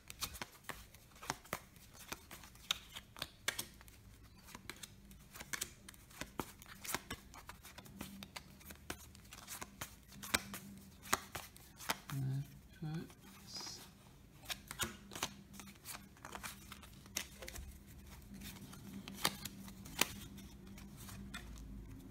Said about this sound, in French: alors je vais chercher les cartes qui représentent pour moi des personnages